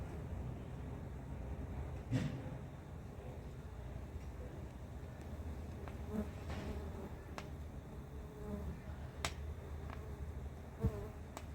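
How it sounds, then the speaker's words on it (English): Faint, steady buzzing of Firetail resin bees hums under quiet outdoor ambience near beehives, with a few brief louder passes as bees fly close to the mic. "A couple of sneaky Firetail resin bees."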